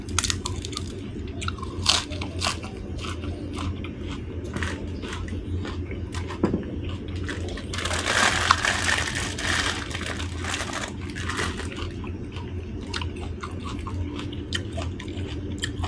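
Close crunchy chewing of rice with Thai khilek curry, with repeated bites and steady mastication and a louder crunching burst in the middle, with no talk.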